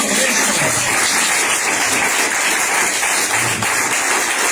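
Worshippers at a sermon give the Lord a round of applause, a loud, thick, unbroken roar of many hands clapping that fills the whole stretch evenly.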